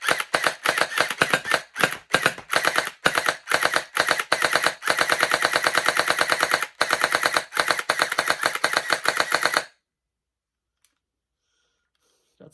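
A Ferventoys SS21 gel blaster fires its last rounds in rapid, loud, close-up bursts of full-auto clatter broken by brief pauses, then stops dead into silence with a single faint click afterward.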